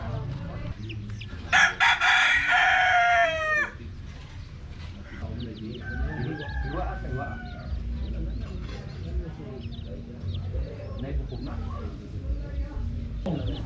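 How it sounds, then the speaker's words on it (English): A rooster crows loudly and close by during a typhoon in Tuburan, Cebu, its call a single drawn-out rising and falling cry, followed by quieter outdoor ambience with faint voices. "But there's a rooster."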